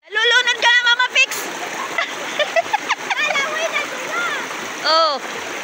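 Water splashes around people swimming in a cold spring, bursts of splashing mixed with lively shouting and chatter from several voices close by.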